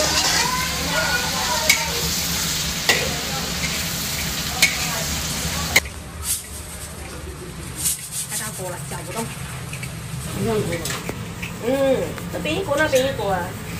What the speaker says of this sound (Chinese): 要炒一点给小孩不辣的